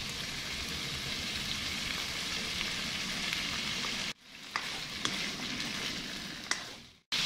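Baguio beans hitting a hot pan of chicken, pork and liver for pancit, giving a loud continuous frying sizzle with a few brief stirring clinks and two short dropouts, no voices.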